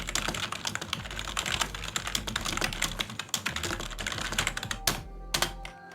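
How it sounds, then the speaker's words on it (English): Rapid, steady keystrokes clatter up close on a Sades gaming keyboard, a continuous run of crisp clicks with a low hum beneath, ending with a few final taps. "That's me there, typing."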